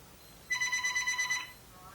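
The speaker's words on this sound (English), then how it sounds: "alarm going off, phone ringing" A phone rings in a short burst of repeated electronic trills, bright and fairly close, lasting about a second before stopping, with quiet room tone around it.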